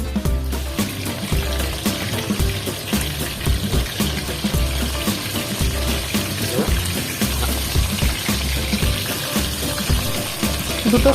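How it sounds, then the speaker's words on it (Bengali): Marinated chicken leg pieces fry in hot oil, a loud continuous bubbling crackle with watery spattering texture and low rumbling pulses throughout, close and steady. "তার মধ্যে আমি ম্যারিনেট করে রাখা চিকেনের লেগ পিসগুলো দিয়ে লেগ পিসগুলো ভালো করে ভেজে নেব।"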